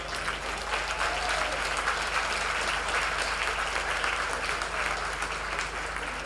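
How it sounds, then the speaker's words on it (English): Audience at a Christoph Hess and Eddie Macken riding master class breaking into sustained, dense applause, steady clapping from many hands filling the room without pause. "Big applause for Eddie"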